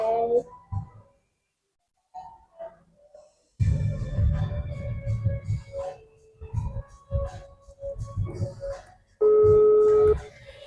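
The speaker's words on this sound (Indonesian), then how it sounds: "kalau begitu aku telepon direkturnya dulu ya" Telephone tones sound in an office during a staged auditing drama, with a sustained ringing tone near the end, mixed in among stretches of conversation.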